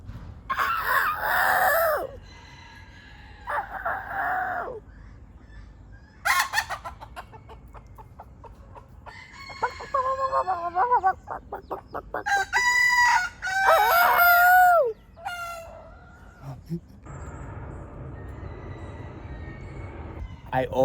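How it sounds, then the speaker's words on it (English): Chickens in a garden in central Lisbon cluck while a rooster crows loudly and close by in several long bursts, with quieter stretches between, and a person talks briefly over the birds. "There's just a bunch of chickens."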